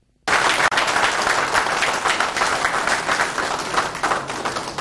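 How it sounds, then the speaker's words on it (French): An audience at a book launch bursts into sustained, dense applause that starts abruptly and holds steady, loud and close, with no talk over it. "sous les acclamations frénétiques de l'assistance"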